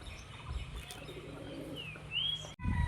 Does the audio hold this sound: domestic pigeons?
yes